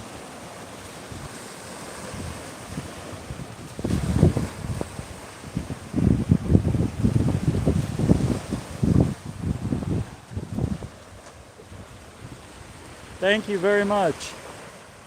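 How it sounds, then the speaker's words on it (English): Surf rolls onto a beach in Clearwater, Florida, with wind buffeting the microphone and bursts of waves swelling and fading; someone speaks briefly near the end. "You can hear the ocean though."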